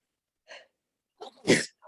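A single sharp sneeze, preceded by a brief soft intake of breath, fairly close and loud against otherwise quiet surroundings.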